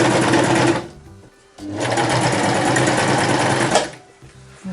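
A sewing machine threaded with grey thread stitches a fabric mask in two close, loud bursts of rapid whirring, separated by a short pause and followed by a brief stop near the end.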